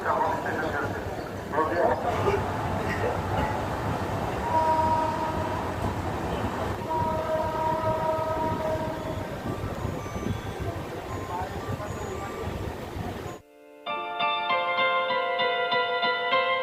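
A train pulls into Salboni station on the Purulia–Howrah line with a continuous heavy rail rumble and rolling clatter. Tonal horn-like notes rise near the end, and someone talks throughout.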